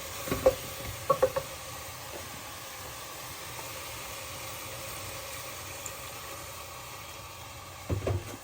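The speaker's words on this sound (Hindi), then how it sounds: "तो अब मैं इसको जो है वो इसके अंदर ना दूध डाल देती हूँ" Milk poured into food sautéed in ghee sizzles with a steady low hiss, broken by a few soft scraping stirs near the start and end, close and moderately quiet.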